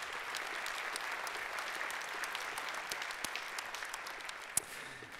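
Sustained applause from a crowd at a tree-planting inauguration in Värö, steady dense clapping for several seconds with a few louder individual claps standing out near the end.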